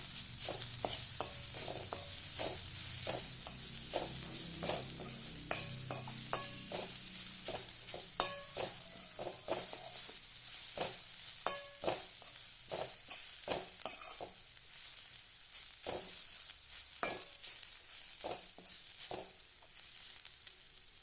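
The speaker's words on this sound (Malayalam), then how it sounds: "നന്നായിട്ടൊന്ന് മിക്സ് ചെയ്ത് കൊടുക്കാം ലോ ഫ്ലെയിമിൽ വെച്ചിട്ട് വേണം ചെയ്തെടുക്കാൻ" Food fries on a low flame while a spoon stirs it, a constant quiet sizzle punctuated by dozens of sharp, irregular scrapes and taps against the pan, close by and with no one talking.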